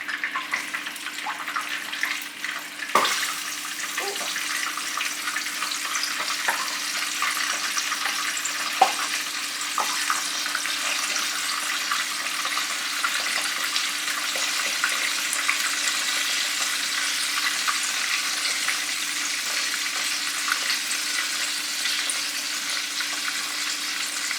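Pollock fillets fry in a pan with a steady, close crackling sizzle that lasts throughout, broken by occasional louder pops and light clinks of utensils.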